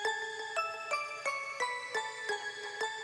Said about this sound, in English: It's just bells.